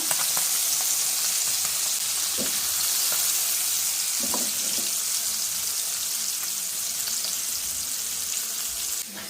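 Puti fish (pool barb) frying in a pan, a steady close hiss and crackle of oil running unbroken throughout, with a few soft clinks of utensils.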